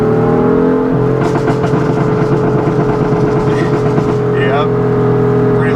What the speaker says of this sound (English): the popping on deceleration is just very fun